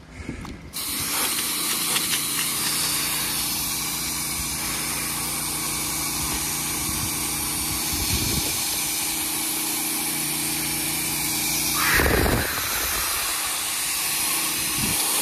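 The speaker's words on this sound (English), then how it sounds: "I'm pulling 300 foot of high pressure hose" A pressure washer fed through 300 feet of high-pressure hose sprays soap during a roof cleaning, making a loud, continuous hiss that holds steady throughout, with brief surges near the middle and toward the end.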